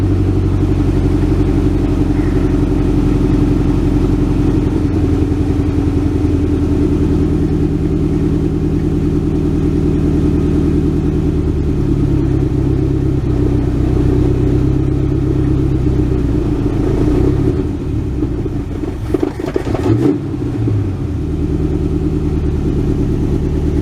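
A 1967 Ford Galaxie V8 runs roughly and loudly without settling into an idle, its deep steady rumble holding for most of the stretch before wavering and faltering near the end.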